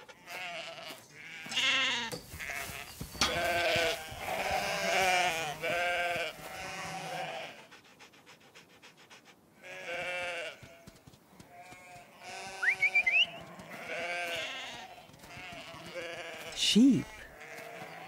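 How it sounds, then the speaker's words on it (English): Sheep bleat repeatedly in wavering, nasal calls, several overlapping bursts close by, interspersed with short pauses and a couple of rising squeaky sounds. "Sheep."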